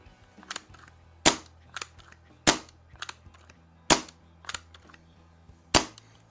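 An antique BB gun is dry-fired repeatedly without feeding a BB, giving sharp, close snapping reports roughly every second with softer clicks of cocking between them.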